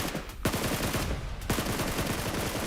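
Gunfire in a PUBG Mobile championship match, a steady rattle of rapid shots close by with a couple of sharper cracks standing out, continuous for a few seconds.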